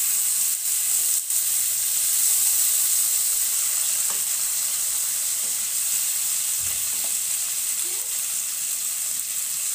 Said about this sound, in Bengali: এই তো মাছটা ভাজা হচ্ছে